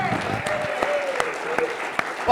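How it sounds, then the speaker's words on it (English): Brief applause from an event audience for an organizer, steady clapping with a few sharp louder claps and murmuring voices underneath. "Give Bobby a round of applause."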